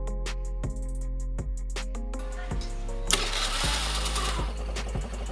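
A repaired motorcycle with a previously hard-starting kickstart fires up, its engine catching and then running steadily with a close, continuous idle and rhythmic mechanical clatter, a brief louder burst of revving partway through.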